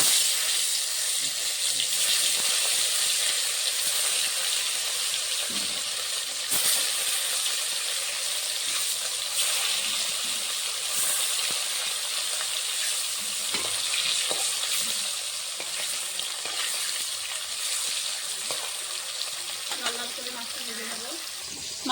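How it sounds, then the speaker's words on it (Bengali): Fish frying in hot mustard oil in a pan, a loud, dense, unbroken hiss and crackle of spitting oil that runs steadily throughout, up close with no talking. "তেলটা গরম হয়ে গেছে মাছটা দিয়ে দেবো"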